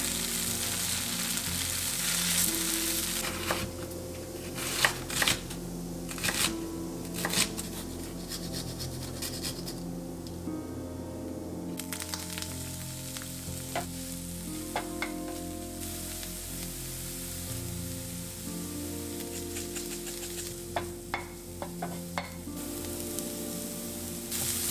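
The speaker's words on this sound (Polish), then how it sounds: "Będę smażyła tofu na oleju sezamowym" Tofu frying in sesame oil in a pan, a steady sizzle with crackles and occasional stirring scrapes, close and continuous with no talking.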